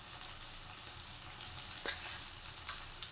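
Spices, chili powder and rock salt being stirred into a capsicum curry in a pan, with a soft steady sizzle and a few light scraping clinks of the spoon, close and fairly quiet.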